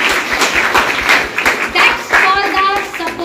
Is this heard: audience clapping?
yes